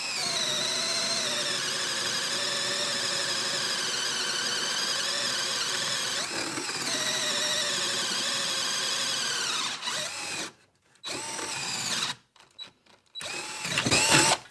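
A TackLife 20v cordless drill runs on speed 2 with a steady, loud, high whine for about ten seconds, then stops, followed by a few short rattles and bumps.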